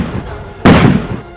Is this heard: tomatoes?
no